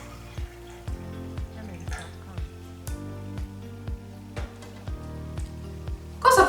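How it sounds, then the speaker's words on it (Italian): Water poured into a glass tumbler for a home water experiment, a run of short gurgling splashes and drips in a regular rhythm, close and fairly quiet, ending in a louder burst. "Prendiamo l'acqua e versiamo un po' d'acqua al suo interno."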